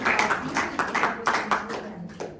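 An audience claps in a quick scattered burst, several pairs of hands slapping irregularly for about two seconds, fairly close and moderately loud, with a faint murmur of voices underneath.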